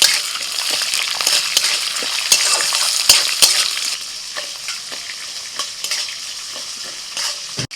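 Chopped small onion with ginger, garlic and green chillies sizzles in oil in a kadai, with a spatula scraping and stirring in irregular strokes over a steady close-up frying hiss.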